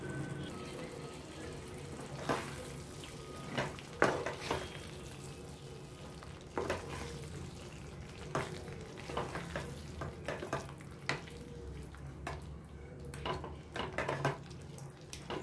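Chicken and potatoes frying in a pan, a faint steady sizzle under repeated scraping stirs and soft clanks of a utensil against the pan, scattered irregularly over a long stretch, moderately close and quiet.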